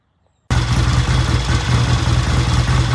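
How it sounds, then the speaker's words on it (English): After a moment of silence, a vintage British motorcycle engine fires up on one kick and settles into a loud, steady idle with a throbbing low rumble. "So I'll fire this thing up again and show it to you running."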